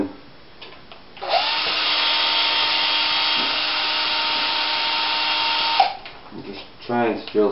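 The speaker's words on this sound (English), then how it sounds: "trying to drill through." A power drill whirs steadily for about four seconds at close range drilling through a leather strap, a continuous buzzing grind, with brief speech before and after.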